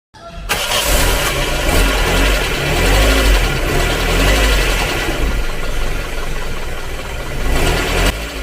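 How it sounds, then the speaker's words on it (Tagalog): A vintage Toyota Corolla engine cranks with a fast whirring reduction starter and catches, settling into a loud, rough running rumble close by. "And then next naman itong reduction starter."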